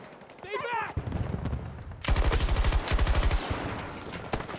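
Rapid bursts of light machine gun fire in a Call of Duty multiplayer match, loud and close, with dense repeated shots and a short voice heard early.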